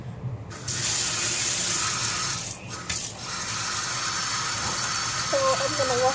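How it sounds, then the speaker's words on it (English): Plates are washed under a running tap, with a steady loud hiss of water, a brief dip in flow partway through, and faint dish clatter toward the end while a voice speaks briefly. "now we're gonna wash some plates"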